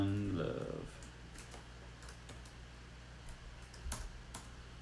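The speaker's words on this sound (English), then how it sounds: "Typing this." Keys on a computer keyboard being typed, light clicks scattered across several seconds at a quiet, close level, after a brief louder noise at the start.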